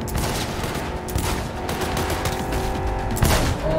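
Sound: gunfire in Cyberpunk 2077 video game

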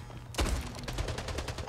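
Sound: gunfire in the video game Splitgate

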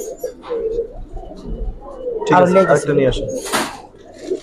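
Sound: Giribaz pigeons cooing in a loft

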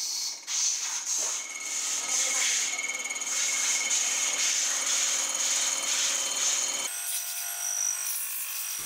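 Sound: milling a FOTON 1043 cylinder head surface on a milling machine

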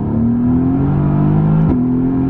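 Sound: Mercedes-AMG GT R sports car accelerating

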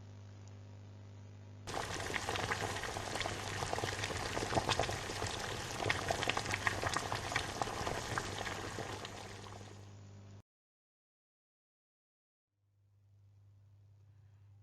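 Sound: huge cauldron of porridge boiling

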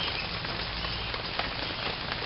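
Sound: rain falling

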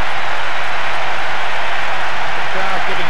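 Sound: football stadium crowd jeering in video game PES

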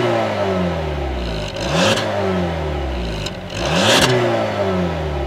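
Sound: 2016 Volkswagen CC R-Line exhaust revving

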